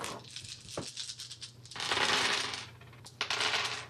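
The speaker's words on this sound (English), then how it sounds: "So many dice." Dice clatter and roll across a table during a Shadowrun tabletop role-playing session, with bursts of rattling, a longer tumbling stretch and a final sharp clack and roll, fairly close with no talk.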